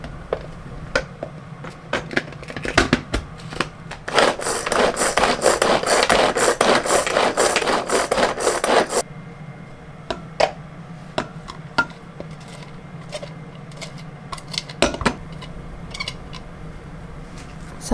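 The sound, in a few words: knife mincing garlic chives (nira) on a cutting board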